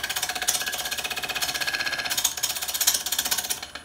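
A chisel cuts into spinning wood on a wood lathe, giving a steady, rhythmic, close-up chattering scrape throughout.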